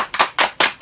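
A few people clap hands at a surprise birthday greeting, four quick bursts of claps spaced evenly, close and bright, with no talk over them.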